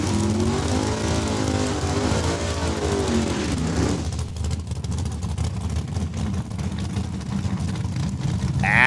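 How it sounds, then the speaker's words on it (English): A drag racer's engine roars loudly during a rear-tire burnout at Saskatchewan International Raceway, rising to a high rev then dropping into a rough, rumbling drone with crackling noise. "Bob Fiesel warming up the rear tires"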